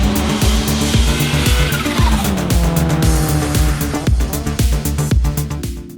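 A Honda S2000 sports car driven hard, its engine loud and close with rising and falling revs through gear changes and tires squealing through corners, continuous for the whole stretch.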